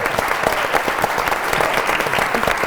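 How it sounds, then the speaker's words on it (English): Audience applause at a faith-themed book event honoring a film's makers, steady dense clapping throughout from a large crowd, loud and continuous with no speech over it. "So give an applause to everybody who had something to do with this film."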